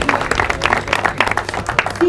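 Outdoor crowd clapping for the women's 8K race second-place finisher at an awards announcement, scattered irregular claps mixed with voices and an announcer talking over them.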